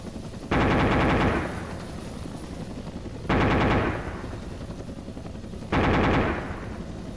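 AH-1W Cobra helicopter gunfire in a video game: three loud, sustained bursts of rapid automatic fire, each about a second long, separated by steady mechanical background drone.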